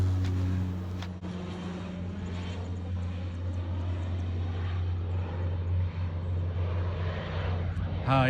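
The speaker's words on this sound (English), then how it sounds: "So this plane kept flying over me. You can probably hear the noise" A propeller airplane flying over a golf course gives a steady, droning engine hum throughout, moderately loud and fairly constant, with faint outdoor background noise.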